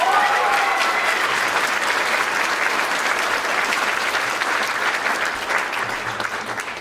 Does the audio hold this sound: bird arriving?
no